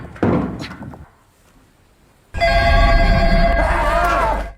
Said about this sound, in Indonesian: telepon tiba-tiba berdering